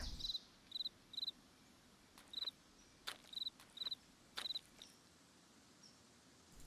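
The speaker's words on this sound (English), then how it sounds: "Better not be any crickets out here." Faint, quiet cricket chirps from the video game Nancy Drew: Ghost Dogs of Moon Lake repeat in short bursts, roughly one every half second, over a soft hiss with a few clicks.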